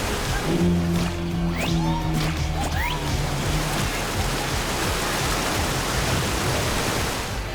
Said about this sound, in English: Be quick as he will be tossing large tidal waves your way.